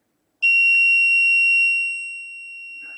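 A continuity tester gives a steady, loud electronic buzz while its probes are held across a small lamp, starting abruptly, holding a constant tone, then dropping slightly in level before the end.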